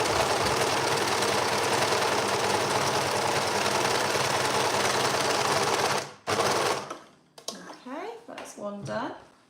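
An overlocker sews a shirt side seam with a loud, rapid, continuous whirring chatter for about six seconds, then stops abruptly, and a voice starts talking.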